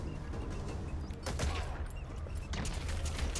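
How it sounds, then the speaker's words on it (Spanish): Heavy machine gun fire rattles in dense, continuous bursts during Metal Gear Solid 5 gameplay, a steady wash of rapid shots with a few heavier hits. "Está acribillando ese ahí, además con una ametralladora pesada"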